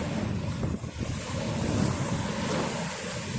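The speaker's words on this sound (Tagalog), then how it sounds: "Sa lakas ng alon, medyo na sisira na yung gilid yun." Strong sea waves roar continuously against a pier under construction, with heavy wind buffeting the microphone, a dense steady wash of surf with no voices.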